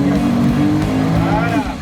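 A 300 hp Seabreacher shark-shaped boat accelerates at full throttle, its loud, close engine roaring with a rising pitch. Voices can be heard under the roar.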